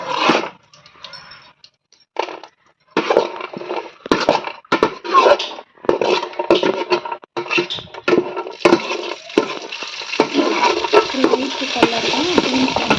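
Raisins fry in a pan with bursts of crackling and sizzling, broken by scraping and stirring scuffs, growing denser and more continuous toward the end, close and fairly loud.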